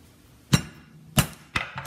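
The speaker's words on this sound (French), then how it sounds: "si vos côtelettes sont trop épaisses, vous prenez un marteau et vous les aplatissez" A hammer pounds pork chops flat in a kitchen: four sharp, close impacts, the first three spaced well apart and the last two coming quicker, over quiet background.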